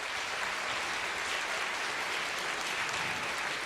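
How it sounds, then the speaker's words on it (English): A crowd at a music celebration event breaks into continuous applause, a dense even wash of clapping at moderate distance with no voices over it. "can we give ourselves a round of applause?"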